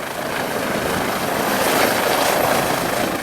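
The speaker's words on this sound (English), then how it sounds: "I've never had a helicopter land seen a helicopter land this close before." A helicopter roars loudly close by as it lands in a parking lot, its rotor wash a steady rushing thrum that swells slightly as it holds overhead.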